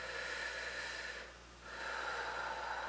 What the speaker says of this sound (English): we're going to take 3 deep breaths